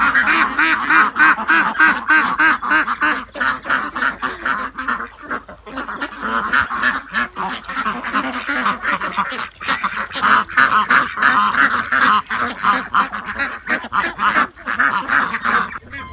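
A dense flock of ducks at a farm pond, loud continuous overlapping quacks and honks close by, filling the air without pause.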